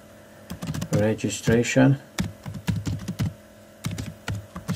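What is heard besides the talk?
typing a project name on a computer keyboard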